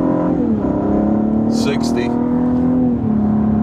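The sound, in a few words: 2016 Cadillac ATS-V engine accelerating hard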